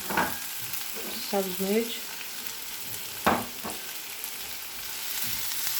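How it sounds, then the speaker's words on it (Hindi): Onion and tomato fry and sizzle in a pan for an omelette, with a steady hiss, a couple of brief stirring scrapes and short talk in the middle. "अब इसमें टमाटर डालेंगे"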